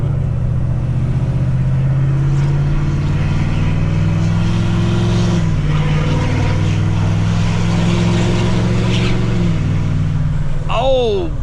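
A 2024 6.7 Powerstroke diesel pickup tuned to 587 wheel horsepower, in tow haul mode, drones with a loud steady engine rumble under light throttle, its note shifting in pitch as it accelerates, with a brief rising whine near the end.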